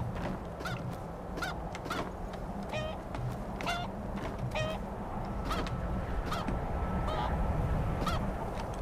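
Chickens in the video game Skyrim give repeated short, sharp calls at an irregular rhythm, fairly close, over a constant murmur of background ambience with no clear speech.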